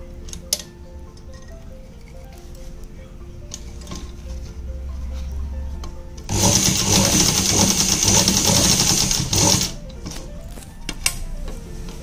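A domestic sewing machine runs a straight seam over elastic set into palazzo trouser fabric, a loud steady mechanical whir for about three seconds midway, framed by quieter ticking and handling noises before and after.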